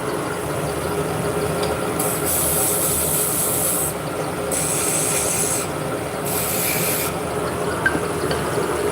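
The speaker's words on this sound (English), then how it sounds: "I'm going to be using a beading tool. basically just a scraper that's shaped like a V." A V-shaped beading tool scraping beads into a spinning workpiece on a wood lathe, giving a steady, close rasping rub over the constant lathe drone, with brief brighter bursts of cutting as the tool engages.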